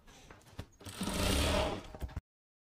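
Sewing machine stitching along the hem edge of a lehenga backed with canvas, a steady run of close motor whirring for about a second and a half between brief starts and stops, then cutting off.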